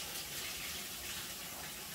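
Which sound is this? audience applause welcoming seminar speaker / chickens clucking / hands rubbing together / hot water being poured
hot water being poured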